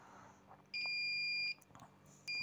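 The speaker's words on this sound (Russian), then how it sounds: "Прозвонка работает в выключенном состоянии, пищалочка." A homemade pocket multimeter built from a disposable device sounds its continuity-tester beeper in two steady high-pitched electronic tones, one lasting nearly a second and another starting near the end, over a quiet background.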